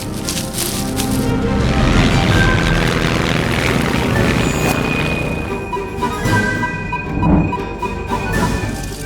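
A biplane called the Tornado takes off in an animated Sonic cartoon, its engine giving a loud, steady droning roar under music and effects that swells and stays strong throughout.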